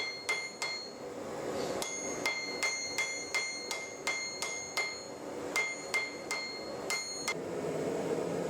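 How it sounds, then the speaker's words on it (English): Ringing hammer blows on steel cable being forge-welded into a solid bar, each strike bright and metallic, struck in quick rhythmic bursts with short pauses between groups, close and clear with a faint background hum. "Once I can feel and hear that the cable is becoming a solid piece, I increase the force of the hammer blows."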